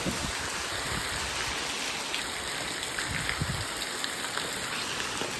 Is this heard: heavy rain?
yes